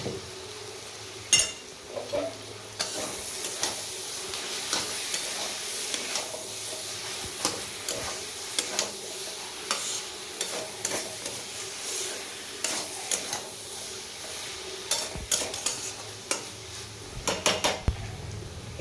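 A spoon stirs a mocha (banana flower) and fish-head mixture in a pan with a pinch of sugar, giving scraping clatters and metal knocks over a low sizzle, irregular and close, with no talk.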